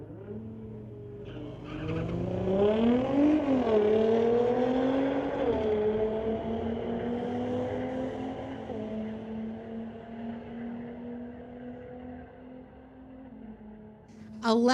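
A 2018 VW Golf drag races a Nissan GTR down a drag strip lane, engines roaring loudly and rising in pitch through the launch, with a brief tire squeal, then a sustained high-revving drone that fades slightly as the cars pull away.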